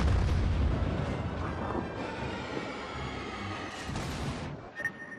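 A St. Louis cruiser firing its guns in World of Warships, a steady broadband rumble of heavy naval gunfire sustained across the whole stretch with a sharper burst near the end, no talking.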